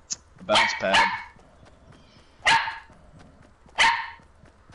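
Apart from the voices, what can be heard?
dog barking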